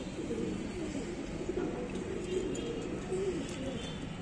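A caught male pigeon kept for breeding coos close by, a steady low, throaty murmur rolling on without a break.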